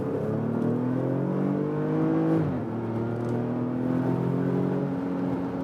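A 2016 Porsche Cayenne GTS V6 turbo engine pulls steadily under throttle uphill, a continuous droning hum that shifts pitch briefly mid-way before settling into a steady climb.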